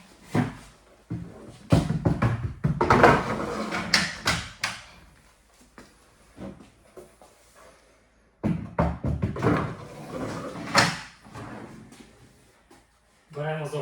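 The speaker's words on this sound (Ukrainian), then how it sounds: "треба просто поставити шухляду на місце, направляючи і притиснути" Drawers are pushed back into a Safari desk cabinet during assembly, giving bursts of wooden knocks, sliding scrapes and thuds in two clusters, close by, with someone talking between them.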